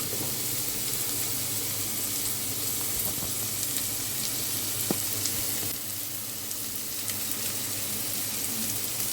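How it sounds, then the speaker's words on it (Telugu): Onions with a pinch of turmeric frying in a pan for a fish curry, a continuous close, loud sizzle with a few faint stirring taps. "ఉల్లిపాయలు బాగా వేగిద్దాం పెద్దగా"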